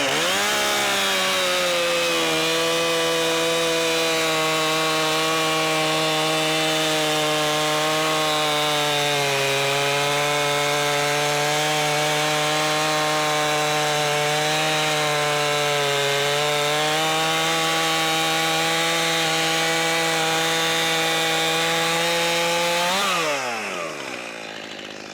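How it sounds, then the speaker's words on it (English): Stihl MS271 Farm Boss 50cc gas chainsaw cutting through wood, a loud steady high-revving whine held for over twenty seconds with slight pitch dips under load, then dropping off to idle at the end. "Now I'm gonna make one more pass with the Stihl MS271."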